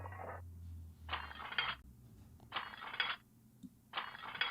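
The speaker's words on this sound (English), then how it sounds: "Who knew you can make car keys sound like plates breaking" Bursts of crashing, clattering hiss repeat about every second and a half, like plates shattering, over a faint low hum; car keys processed with audio effects to sound like breaking plates.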